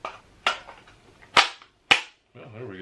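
A magazine pressed into a Mosin Nagant rifle during a stock upgrade: a handful of crisp metallic clicks and snaps spaced about half a second apart, close and fairly loud, followed by a brief low hum.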